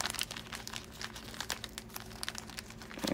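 Sealed plastic bag from a boxed jewelry delivery being torn open: quiet close crinkling and crackling with a few sharp tearing bursts, rising again at the end, no talking.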